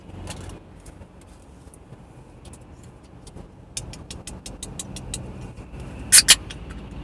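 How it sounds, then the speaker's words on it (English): A can of Brisk Mate mango is cracked open near the end, giving two quick sharp snaps over a quiet background of faint rustling and light clicks. No one talks. "When you crack the can like that."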